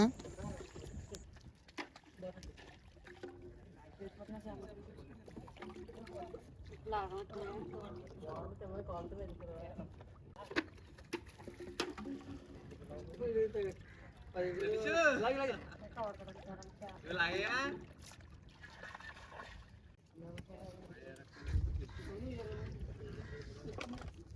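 A small boat moves on the Godavari river, with two boys playing aboard during a fishing outing. Soft water and hull noises sit under near, steady talk that runs through most of the stretch.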